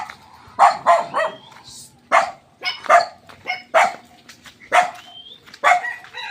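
A dog barks repeatedly at close range, about eight sharp barks in an uneven rhythm, with brief quiet gaps between them.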